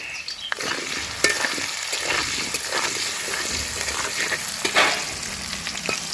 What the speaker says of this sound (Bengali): কড়াইতে তেল দিয়ে দিয়েছি, তেলটা গরম হয়ে গেছে। এবার আমি আলুগুলো দিয়ে দেবো ভাজার জন্য।